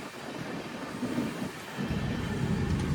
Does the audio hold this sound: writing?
no